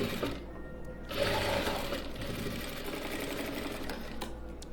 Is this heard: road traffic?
no